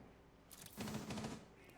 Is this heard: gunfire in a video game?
yes